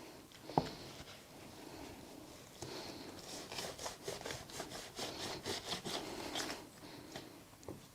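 A mini soil blocker is pressed and wiggled into seed-starting soil mix with wool pellets, then scraped flat, giving close, soft gritty scraping and rubbing strokes in a quick rhythmic run.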